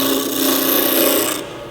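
A turning tool scraping against spinning wood on a wood lathe gives a loud, steady, close rasping hiss that holds for over a second and then drops off as the tool eases away.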